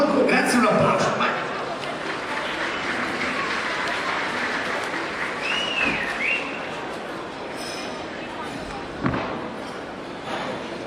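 Sustained applause from a live show audience in Marghera, Venice, fills the clip as volunteers are invited on stage, steady and broad, with scattered voices and a sharp knock near the end.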